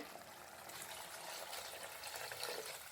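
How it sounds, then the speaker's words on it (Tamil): Water added to a Tamil fish curry base of salt and spices in a cooking pot, a steady soft trickling pour that runs continuously and fairly quietly close by, with no talking. "தேவையான அளவுக்கு தண்ணி சேர்த்துக்கிறேன்"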